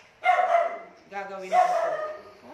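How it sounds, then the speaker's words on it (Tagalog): A pet dog barking repeatedly, apparently reacting to something outside, with a few loud barks close by while a person speaks. "pasensya na kayo sa aso na namin kasi baka meron siyang nakikitang hindi maganda doon sa labas"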